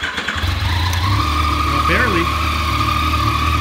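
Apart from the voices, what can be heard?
FJ-09 motorcycle engine starting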